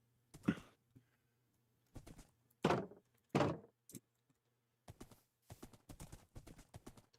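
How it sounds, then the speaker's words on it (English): Horse hooves clip-clop in the Minecraft video game, with a handful of irregular, hollow clops and a few fainter knocks spaced over several seconds, quiet and alone. "bringing another horse over."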